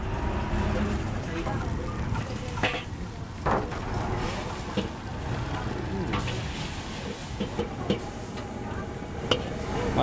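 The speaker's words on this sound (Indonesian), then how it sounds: "Jadi lagi masak mie goreng nih." Mie goreng fried noodles stir-fried at a lesehan roadside eatery: a steady, busy sizzle with scattered clanks and scrapes of a utensil, while voices carry on in the background.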